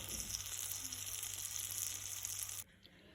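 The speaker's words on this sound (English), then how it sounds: "here I am toasting the pav bun, guys, by adding little bit of butter in the tawa" Butter sizzling on a hot tawa as a pav bun toasts, a soft continuous crackle and hiss that stops abruptly near the end, with no one speaking.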